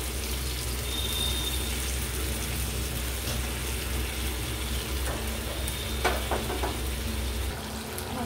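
Chicken curry meat frying in a pan with a ground paste of dried red chilli, green chilli and tomato, giving a steady, close sizzle with occasional scraping stirs toward the end.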